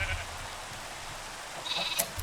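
Faint sheep bleats from Minecraft (FTB modpack) come as a couple of short, thin calls near the end over a quiet low background, with no talking.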